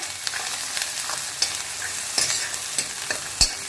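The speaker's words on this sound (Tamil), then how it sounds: "வெங்காயம் பாதி வதங்கியிருக்கு, இன்னும் கொஞ்சம் நல்லா வதங்கட்டும்." Onions, green chillies, garlic and curry leaves sizzle and fry in a pan, a steady close hiss broken by occasional stirring scrapes and small pops, with no voices.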